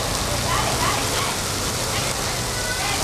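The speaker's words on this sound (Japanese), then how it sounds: "Fucking raining." Sudden hard rain in Hokkaido, a dense, loud, steady wash of falling drops filling the whole scene, with voices faintly underneath.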